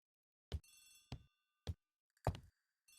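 Old-style telephone bell rings in four short, loud bursts with pauses between, each with a bright metallic shimmer, alone with no talk, in an Agatha Christie period drama.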